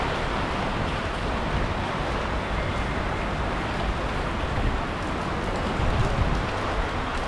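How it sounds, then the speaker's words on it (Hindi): Steady rain falls outdoors at night, a dense, even hiss of drops that holds at the same level for the whole stretch, with no voices over it. "बारिश भी हो रही है"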